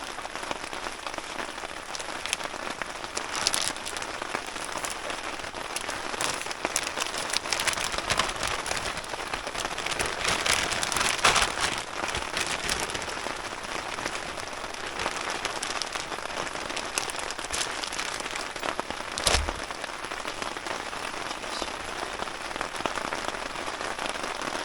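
Steady rain patters across a lake's surface on a wet backpacking fishing outing, a dense even hiss of drops that holds throughout with slight swells, and one brief low thump near the end.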